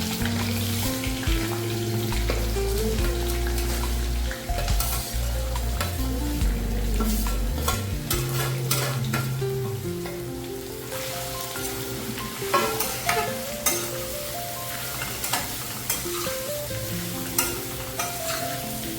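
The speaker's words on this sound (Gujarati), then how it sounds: "હવે આપણે બટેટા મસાલાવાળા એડ કરી દઈશું." Spiced potatoes with curry leaves frying in a pan for a fasting thali, a constant loud sizzle as a spoon scrapes and stirs in uneven strokes, close up with no talking.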